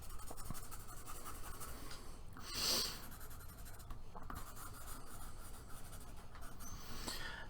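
A pencil sketches a human face on paper, giving faint, continuous scratchy strokes close to the page, with no talking.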